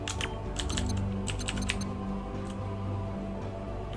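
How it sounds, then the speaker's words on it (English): Number keys on a computer keyboard tapped while playing Star Citizen, a loose run of close, crisp clicks in uneven bursts over a low steady game hum, no talk. "You can press the number keys"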